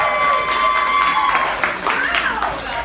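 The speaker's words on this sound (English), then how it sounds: "Everyone give Laurel a quick round of applause." Comedy show crowd breaks into a quick round of applause for Laurel, a loud, dense wash of clapping with some cheering, steady for a few seconds before easing slightly.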